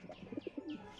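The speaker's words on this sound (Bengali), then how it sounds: "এই যে পায়রা দুটো ছেড়েছি, দেখুন কত সুন্দর বাচ্চা আছে।" Pigeons just released give a series of soft, low coos in short repeated pulses, close and fairly quiet, with a few higher chirps mixed in and no talking.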